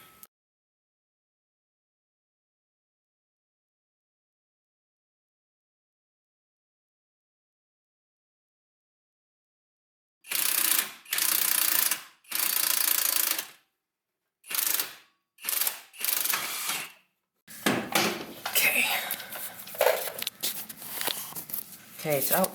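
A ratchet loosens the car's shock absorber bolts during a coilover install: after a long silence come several close, rapid bursts of clicking, then looser metallic clattering.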